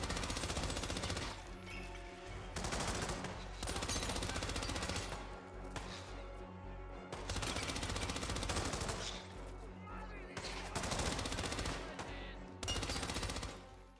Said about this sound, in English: The weapon sounds pretty good, and the shots will leave bullet holes in walls along with blood splatters from enemies